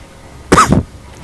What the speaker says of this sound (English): I need to stop coughing, don't I?